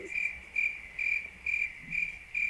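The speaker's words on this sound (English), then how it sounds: "make the crickets louder than you can talk" A crickets chirping sound effect plays on a radio show, a bright pulsing trill in regular bursts about every half second, moderately loud with no talk over it.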